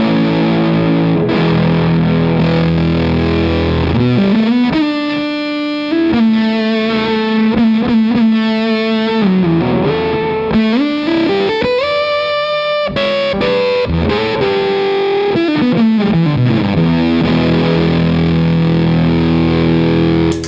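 Electric guitar on the neck pickup driven through a Tru-Fi Two Face germanium and silicon fuzz pedal with impedance control maxed, thick saturated sustained notes and sliding bends, loud and continuous with no talking.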